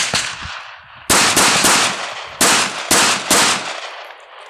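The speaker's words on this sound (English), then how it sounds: "Okay, the SIG 239, once again, 15 feet, triple tap," A SIG 239 9mm compact pistol fires at an indoor range from 15 feet, several loud, sharp close-up shots in uneven quick bursts, each ringing out briefly, with no talking.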